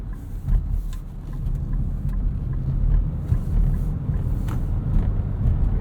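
2021 Nissan Rogue SL FWD cabin on a bumpy road, a constant low rumble of road noise with small scattered knocks and interior rattles, no talking.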